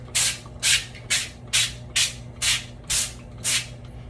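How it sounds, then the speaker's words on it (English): Cooking spray hisses onto a foil-lined baking pan for lasagna in eight short, even bursts about half a second apart, close and clear over a low kitchen hum. "I'm going to take my pan and I'm going to spray it."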